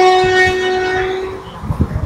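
Inside a moving Pinakini superfast express train, a long horn blast sounds over the steady rumble and clatter of the carriage, fading slightly before wheel knocks return.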